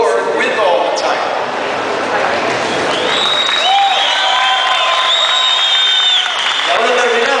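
A convention audience at a comic-con lecture in Guatemala breaks into loud, sustained applause filling the room, with scattered cheers and a voice talking over the clapping.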